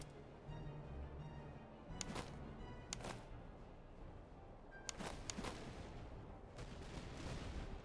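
Artillery guns fire in the Master of Command battle game, a handful of sharp booming blasts spaced irregularly over a dense, continuous battlefield rumble and crackle.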